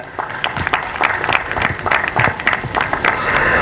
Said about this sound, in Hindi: मुझे लग रहा है अनीक भाई को लोग ज़्यादा पसंद नहीं करते क्योंकि तालियों में बहुत ज़्यादा जान नहीं है।